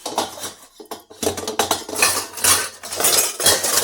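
Metal utensils and dishes clatter and clink repeatedly at a village market, a dense run of close, loud scraping and knocking with no pauses or voices.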